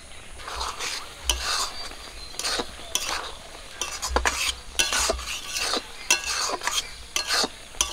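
Raw mango pickle stirred in a pan with a spoon to dry out its juice: repeated scraping and clinking strokes at an uneven rhythm, close by, over a faint sizzle.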